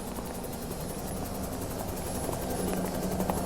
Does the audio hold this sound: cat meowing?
no